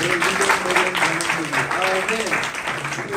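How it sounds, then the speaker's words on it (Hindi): Congregation applause fills a church convention hall in Chhindwara, a steady wash of clapping that holds for a few seconds while a voice speaks over it. "फिर से हम ताली देंगे।"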